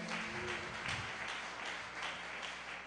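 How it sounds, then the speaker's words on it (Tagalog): Church congregation clapping loudly during a Filipino worship service, a steady wash of applause that holds evenly at moderate level with no speech over it. "pumalakpak ng malakas sa ating mahal na Panginoon."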